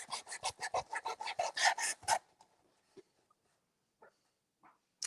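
A wooden craft tray is hand-sanded with sandpaper, about a dozen quick rasping back-and-forth strokes close up over two seconds, then near silence with a few faint scrapes.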